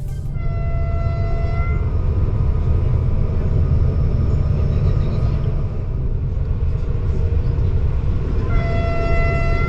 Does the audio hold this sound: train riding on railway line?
yes